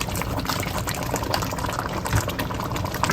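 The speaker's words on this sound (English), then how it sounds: "let me add a little more beef stock" Beef stock poured into a simmering rigatoni bolognese sauce, a steady close liquid splash and gurgle over the bubbling pot for about three seconds, no voices.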